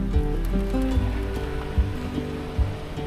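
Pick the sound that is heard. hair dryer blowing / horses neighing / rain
rain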